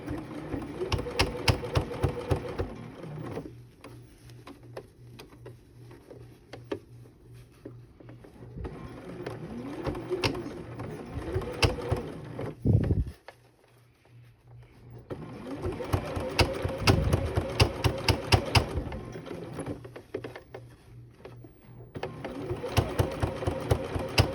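A sewing machine stitches in several rapid mechanical bursts separated by brief pauses, loud and close, with a quieter lull partway through.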